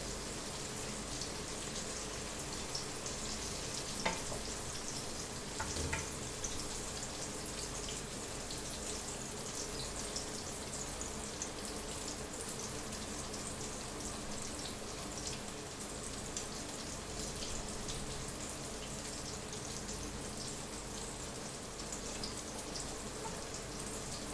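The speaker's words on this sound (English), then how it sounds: "So it is getting nicely fried." Brinjal (eggplant) burger patties frying in a pan give a steady, even sizzle that crackles like light rain, with a few soft pops standing out and no talk over it.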